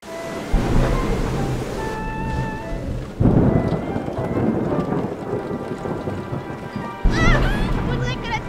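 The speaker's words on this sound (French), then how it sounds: "Faudrait que la tempête s'arrête." Cartoon thunderstorm with steady heavy rain hissing throughout, punctuated by deep rumbling thunder crashes at several points, with short voiced lines and a musical tone mixed in.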